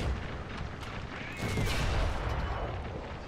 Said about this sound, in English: Get out here with your machine guns.